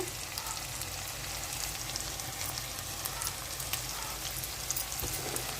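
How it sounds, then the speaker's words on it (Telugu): Sliced onions frying in a pan for a dry fish and egg curry give a steady, close, even sizzle throughout, without pauses. "ఉల్లిపాయ ముక్కలు కూడా ఏగిపోయినాయండి"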